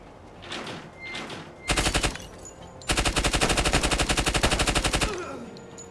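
Door Kickers 2 gunfire rings out in a video game breach: two short bursts, then a brief rapid automatic burst and a longer sustained burst of loud, close shots.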